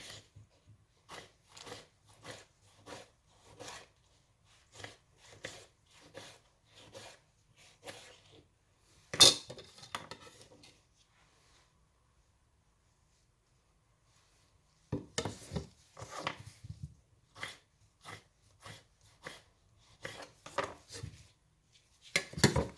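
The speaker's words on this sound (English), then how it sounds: "I like to use a smaller knife when I'm cutting things" A knife slices through a medium-sized tomato in a kitchen, giving a run of soft, evenly spaced cutting taps and rubs close by, then a brief louder knock, a few seconds of quiet and another quick burst of cuts.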